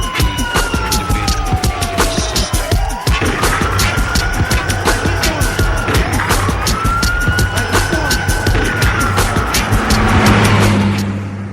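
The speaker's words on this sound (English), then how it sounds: "traffic be flying by this motherfucker" Road traffic passing close by, vehicles whooshing past one after another with rising and falling engine and tire noise, loud and continuous, with rhythmic clicking and rattling throughout.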